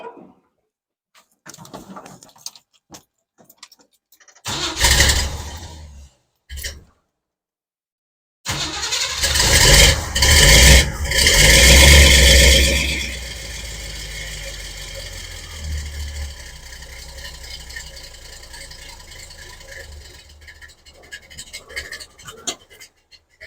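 A 1972 Monte Carlo V8 cranks briefly, dies, then catches and roars to life with a loud burst before settling into a rough, uneven idle that runs on steadily to the end.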